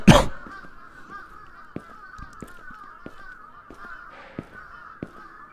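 A loud burst opens, then scattered crow cawing calls and faint knocks over a constant droning hum, moderately distant, in a video game set in Tokyo.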